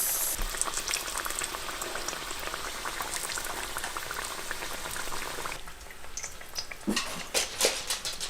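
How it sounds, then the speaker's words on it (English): A seitan steak fries in oil with a dense, steady crackle and bubbling sizzle, close and fairly loud. Midway the sizzle drops a little, and sharper pops and spatters follow, as if oil is being spooned over the top. "just put your seitan steak into the oil. I like to spoon some of the oil over top. Cook that for 2 minutes."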